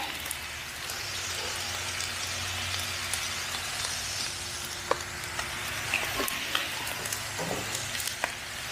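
Onion and mixed vegetables sizzling on a Blackstone griddle, a steady crackling hiss with scattered pops and light spatula taps throughout.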